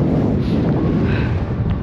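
Strong wind buffets the microphone at Abraham Lake in winter, a loud, constant low rumble with no break.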